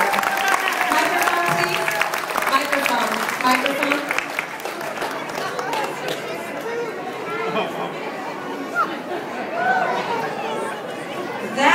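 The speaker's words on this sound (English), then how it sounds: "give them a round of applause" Audience at a stage show claps steadily amid busy crowd chatter, a continuous mid-level wash of clapping and overlapping voices lasting throughout.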